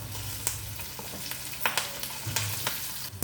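Curry leaves and spices crackling as they fry in hot oil for an Andhra-style tempering, with close steady sizzle broken by sharp pops and a few stirring scrapes.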